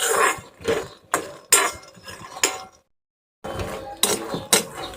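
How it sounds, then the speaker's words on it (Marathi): Peanuts roast over low gas and are stirred in a pan in a series of sharp metallic scrapes and clinks. Rhythmic bursts of stirring are broken by a short silent pause before resuming. "आता आपल्याला पाच मिनटं कमी गॅसवरतीच शेंगदाणे भाजून घ्यायचे व्यवस्थित"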